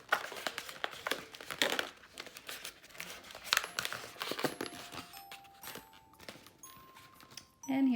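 Rubber balloon being twisted into a dog shape, giving a run of close squeaky crinkling and rubbing sounds with a few sharp squeaks and faint tonal whines, no talking over it.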